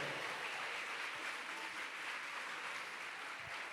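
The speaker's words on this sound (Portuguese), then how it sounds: "aplauda Ele" A church congregation applauding, a dense, even wash of many hands clapping together at moderate level, sustained without pause and with no voices on top.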